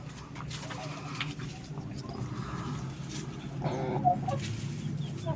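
Free-range chickens clucking outdoors, a steady background of low murmuring clucks with a few sharper calls standing out near the end, moderately close.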